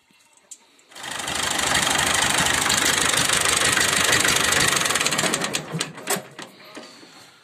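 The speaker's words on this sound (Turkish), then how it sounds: "daha sonra motorumuzu çalıştırarak içeride kalan havanın çıkmasını sağlayacağız" A tractor engine starts and runs steadily after its antifreeze coolant is topped up, a loud, dense mechanical clatter that holds for several seconds before cutting off with a few sputtering knocks; no talk.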